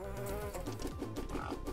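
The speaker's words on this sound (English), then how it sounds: "All these wasps as well." Wasps buzzing in Reaper: Tales of a Pale Swordsman, a steady insect drone running under game music with rhythmic low thumps throughout.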